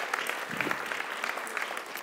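A church congregation at a Sunday meeting claps in a steady, fairly soft patter of applause lasting the whole two seconds, heard from within the room without voices.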